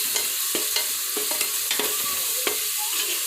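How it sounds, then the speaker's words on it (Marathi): Carrots with tomato and other vegetables fry in a pressure cooker pan, a steady sizzle broken by repeated sharp scrapes and knocks of a spoon stirring against the metal, close and fairly loud. "आता या वस्तू व्यवस्थित फ्राय करून घ्या"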